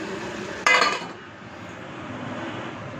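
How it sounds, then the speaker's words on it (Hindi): A lid goes onto a pot of chicken masala with a single bright metallic clink, followed by a faint ringing decay and quiet background hum. "इसको अब मैं ढक कर थोड़ा टाइम पकने दूँगी।"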